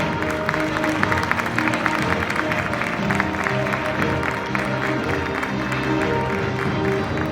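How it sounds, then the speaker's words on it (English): An audience applauds steadily at an awards ceremony, dense continuous clapping from a crowd with some cheering mixed in, sustained throughout. "A round of applause, guys."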